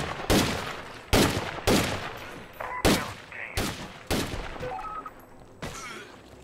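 AK rifle gunfire in State of Decay 2, about seven loud, sharp single shots spaced roughly a second apart, each with a short decaying tail.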